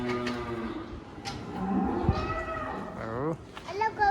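A dairy cow on a German farm moos in drawn-out, wavering calls close by, with people talking over and between the lows.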